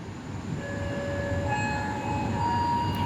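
A passenger train runs between Pemalang and Comal stations, with a continuous low rumble of rolling stock and wheels, plus faint tonal squeals and hums layered over the steady ride noise.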